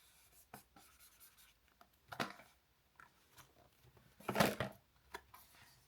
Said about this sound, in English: I'm going to draw it on here for you.